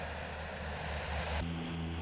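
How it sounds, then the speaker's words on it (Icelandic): Small propeller passenger plane landing at the Suðureyri airfield in Iceland, a steady loud engine drone close by that shifts abruptly in pitch and tone partway through as power changes. "5 sinnum í viku lendir hér flugvél frá Örnum á Ísafirði"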